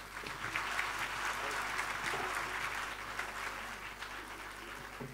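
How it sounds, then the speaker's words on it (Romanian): An audience at a Romanian folklore show applauds steadily, a thick wash of clapping that stays strong and then gradually fades a little toward the end. "felul în care îi răsplătiți sunt aceste minunate aplauze"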